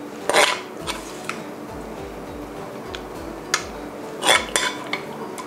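Stir-fried Chilean mussels in XO sauce are scooped onto a plate, giving a few sharp clinks of spoon, shells and plate over a low background hum.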